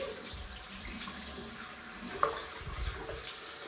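Tap water runs steadily into a bathroom sink and over hands being wet for a morning face-washing routine, a soft continuous splashing with one brief sharper splash midway, no voices.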